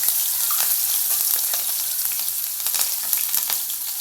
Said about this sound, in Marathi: मोहरी फुटलेली आहे आपण यामध्ये हिंग टाकतोय हळद टाकतो आहे आणि आपण या मिरच्या ज्या आहेत बारीक चिरलेल्या त्या मिरच्या आपण यामध्ये घालून घेतो